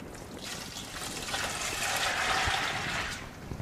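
Bleach solution poured into 2.5 liters of water, a steady close splashing and trickling pour that swells and fades over a few seconds with no talk.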